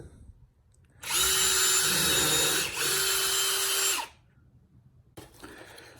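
A power drill with a countersink pilot bit bores a hole for workbench screws, one loud high whine lasting about three seconds with a brief dip midway, then stopping, followed by faint handling noise.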